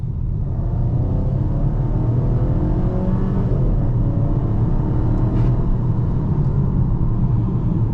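A 2025 Volvo XC40 with a 2-liter turbocharged four-cylinder accelerates from inside the cabin, its steady engine rumble rising in pitch as it builds speed, loud and continuous throughout without talk.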